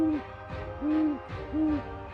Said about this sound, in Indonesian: Dari suaranya, burung hantu tanduk besar menang,